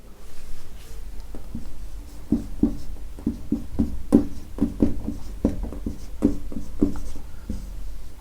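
An answer is handwritten with a pen on paper, a run of quick, distinct scratchy strokes and taps in an irregular rhythm, close and clear over a low background hum.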